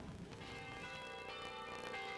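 Church bells ring across Montreal on a D-Day anniversary morning, a steady, distant, reverberant peal with overlapping tones and no talking.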